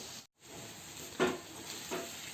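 Rice tossed and fried in a pan for North Karnataka chitranna gives a soft steady sizzle, broken by two brief louder scraping bursts as it is turned.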